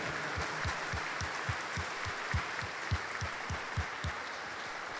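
Congregation at a Lenten Sunday Mass applauds the women on International Women's Day, a soft, steady wash of many hands clapping heard from some distance, with a few louder low thumps standing out in the mix.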